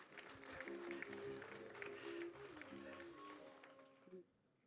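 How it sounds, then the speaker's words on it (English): Audience applause for a speaker at a factory commissioning and product launch event, a steady wash of clapping with voices and a tonal hum under it, fading out near the end. "Get a big hand clap."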